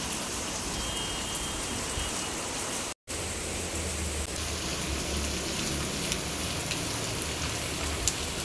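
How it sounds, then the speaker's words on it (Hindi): Heavy monsoon rain pours steadily on a surface outdoors, a dense, continuous hiss with a brief dropout near the start and no talking. "बारिश झमाझम।"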